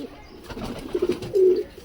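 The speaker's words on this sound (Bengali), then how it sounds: "হাই ফ্লাইং পয়রা তো।" A high-flying breed pigeon coos nearby, two or three soft throaty coos building to a longer rolling call at the end, with faint background noise.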